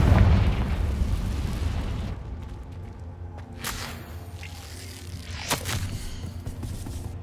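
Confringo blasting curse exploding in Hogwarts Legacy, a loud booming burst at the start that rumbles and decays, followed by scattered smaller pops and crackles.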